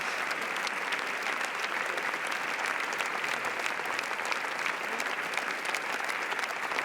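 Dense, steady applause from a large audience at the Cannes 2021 red carpet for Benedetta, with Paul Verhoeven clapping along, sustained and even throughout with no pauses.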